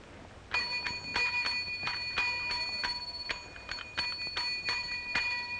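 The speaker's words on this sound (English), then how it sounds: "take that bell and put it away" A small bell rung again and again in an irregular, rapid series of bright metallic dings with lingering tones, fairly close and clear, with no talking.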